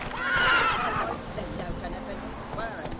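Roach, the horse from The Witcher 3, gives a loud, close whinny at the start, followed by running hoofbeats that continue more softly to the end.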